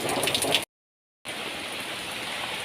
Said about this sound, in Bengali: ভীষণ বৃষ্টি পড়ছে